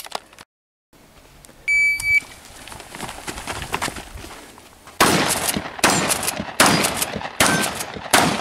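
Gunshots crack at a 3-gun shooting competition, starting with scattered distant reports after a short timer beep, then a series of loud, sharp shots fired in quick, irregular succession near the microphone.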